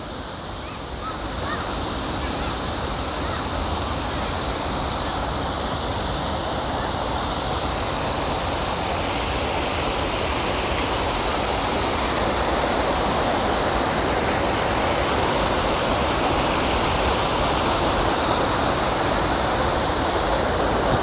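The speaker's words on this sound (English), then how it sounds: "Isn't it a pretty waterfall" A waterfall near Lisbon rushes in a steady, dense roar that stays loud and unbroken for over twenty seconds with no voices.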